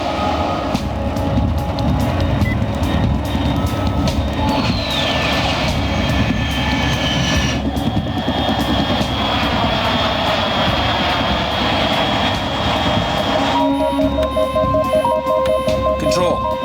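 A fast aircraft passes far overhead at 30,000 feet in the video game Metal Gear Solid 3, a loud continuous engine roar mixed with game music and tonal effects that shift partway through.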